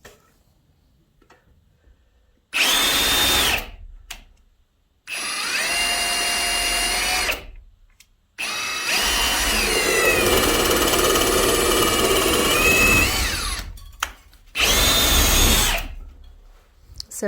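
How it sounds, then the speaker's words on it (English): A power drill boring holes through wooden wall framing in an off-grid cabin for running wire, several loud bursts of high whining drilling at close range with short pauses between, one long sustained run in the middle. "I need to drill these holes and start pulling my wire"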